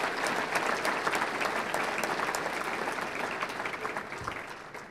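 A football luncheon audience applauds the team's coaching staff with a steady, dense round of clapping from a large room, even in level throughout.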